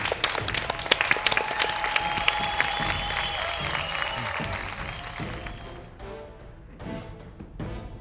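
A studio audience on a Turkish fashion competition show applauds loudly for several seconds, with whistles and cheers riding over the clapping before it fades to scattered claps.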